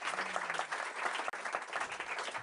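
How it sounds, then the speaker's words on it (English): Steady round of audience applause for panelists at a Paris AI summit, dense continuous clapping from a large crowd with a brief dropout midway. "Let's give them a little round of applause to get them warmed up."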